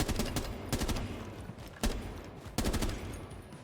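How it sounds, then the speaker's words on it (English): Gunfire in the tactical shooter Rainbow Six Siege while dropping down: several sharp bursts of shots in quick clusters, loud and close with short pauses between. "You shoot once as you drop, or a couple times."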